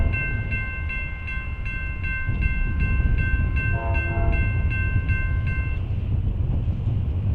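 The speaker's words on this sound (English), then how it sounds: "Now we have CSX Q561, a westbound manifest train, approaching us with a YN2AC 44CW leading the way." A CSX westbound manifest freight train, led by a YN2AC-painted AC44CW locomotive, approaches with a steady low rumble and blasts a loud multi-chime horn in repeated pulses, fading near the end.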